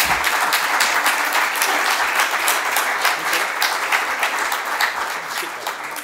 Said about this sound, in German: jetzt nochmal applaudieren für die beiden